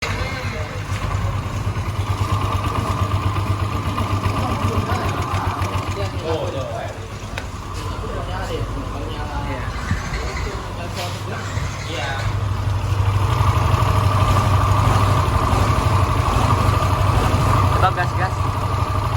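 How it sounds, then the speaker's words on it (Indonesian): A worn Yamaha NMAX Old scooter idles with a noisy, rattly engine drone that swells as the throttle is raised near the end, close up, while someone talks over it. "motor Yamaha NMAX Old yang dimana suara mesinnya tuh berisik kayak gini"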